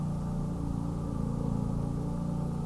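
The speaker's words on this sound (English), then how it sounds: "there you can hear the sound of the service lorries drowning everything else out" Steady low engine rumble of service lorries rolling past, loud and continuous, with no voices.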